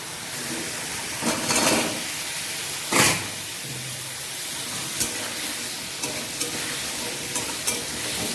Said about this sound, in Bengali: এই মশলাটার সঙ্গে একবারে আমি এটাকে ভেজে নেব ভালো করে